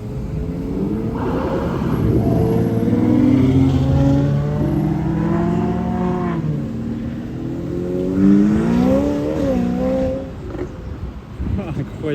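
Two modified Ferrari cars accelerating under police escort at the Miami Formula 1 Grand Prix, with a Cadillac Escalade behind: loud rising and falling engine roars in two surges, with voices talking underneath.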